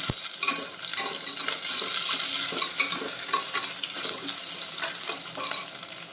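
Ginger and other ingredients stirred in a frying pan while cooking urad dal rice, with steady broadband sizzling and irregular spoon scrapes and clinks throughout, close and fairly loud, no talking.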